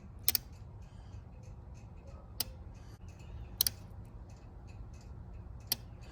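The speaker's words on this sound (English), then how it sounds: "So what you're hearing is the fuel pump relay priming." Sharp, isolated clicks at irregular intervals, four in a few seconds, over a steady low hum; a fuel pump relay on a J-series engine wiring harness clicking while the fuel pump primes.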